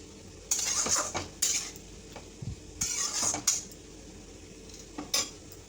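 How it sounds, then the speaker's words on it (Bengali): A spoon serves bitter gourd and potato curry onto a plate in several short bursts of scraping and clinking, with quiet gaps between them and no talk. "রান্নাটা এখন আমি প্লেটে সার্ভ করে নেব।"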